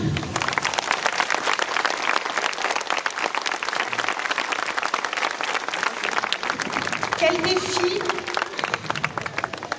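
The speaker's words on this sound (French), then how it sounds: "Je vous demande de les applaudir." Audience applause at a national majorette championship in Agen, a dense crowd clapping steadily throughout, with a voice briefly audible over it near the end.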